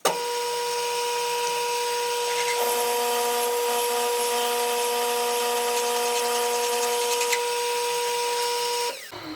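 A steady, loud mechanical whine of a drill bit boring through a metal walking beam hub on a lathe, with layered tones that shift slightly partway through before cutting off near the end.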